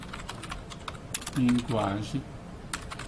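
Keystrokes on a computer keyboard click in short taps during a Python programming lesson, with a brief stretch of talking in the middle.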